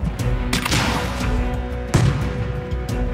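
Huge handmade firework shells exploding in an annual fireworks battle in Italy, with heavy booms, two especially loud blasts among scattered thuds and crackles, some distant and some close.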